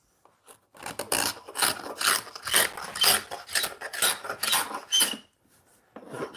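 A small triangle scraper works across a wooden surface in repeated rasping strokes, a dozen or so close, dry scrapes in a steady back-and-forth rhythm with brief pauses, loud and near.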